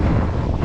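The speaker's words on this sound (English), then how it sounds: "there are a few gusts here in the shipping channel" A brief blast of wind buffeting the microphone during a winter windsurf in a shipping channel off the Isle of Wight, a loud, rumbling gust with no voices.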